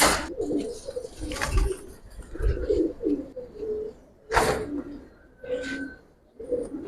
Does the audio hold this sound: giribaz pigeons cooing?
yes